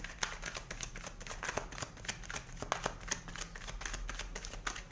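Tarot cards are shuffled by hand in a quick run of soft, papery riffles and flicks, close and fairly quiet, with no one talking.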